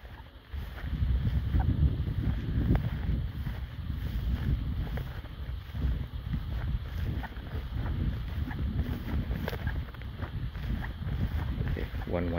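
Low, rumbling wind buffets the microphone outdoors by the water, a constant roar heavy in the lows and punctuated by gusts, with faint voices underneath.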